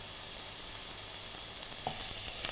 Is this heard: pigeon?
no